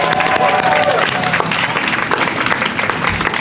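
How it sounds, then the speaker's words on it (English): Applause from a school audience for student lion dance performers at a heritage month celebration, a loud, dense burst of clapping with crowd noise and a voice briefly audible at the start. "Let's give them another round of applause."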